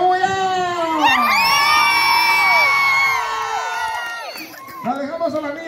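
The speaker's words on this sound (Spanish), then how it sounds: "Vamos a recibirlo con una bulla." A crowd at a patronal-festival queen pageant erupts in loud, sustained cheering, whoops and high shouts, many voices including children's, holding steady for several seconds before breaking into scattered yells.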